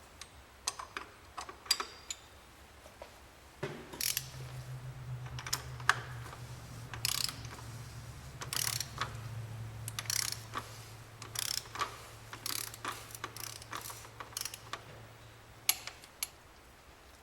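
Irregular, close ratcheting clicks from a torque wrench tightening the plastic oil filter cover on a VW Golf 2.0 TDI to 25 Nm, with a steady low hum underneath from about four seconds on; no talking.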